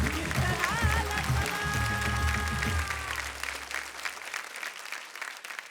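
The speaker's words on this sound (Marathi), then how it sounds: "खरंच जोरदार टाळ्या झाल्या पाहिजे त्या गोष्टीसाठी" A studio audience at a Marathi kirtan competition show claps loudly and steadily, a dense wash of applause that carries on under a sustained musical tone before thinning slightly toward the end.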